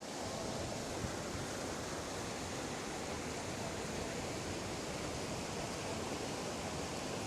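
Steady, dense rushing of water pours without pause at Zamora Falls, a waterfall in Bulacan, heard alone with no talking.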